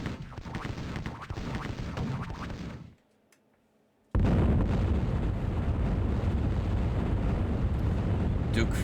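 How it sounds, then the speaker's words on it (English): Explosions from the 1990s first-person shooter Rise of the Triad, Ludicrous Edition, make loud, dense roaring booms that stop for about a second of near-silence and then come back as a heavier, continuous rumble. "Duke 3D would be proud of these explosions."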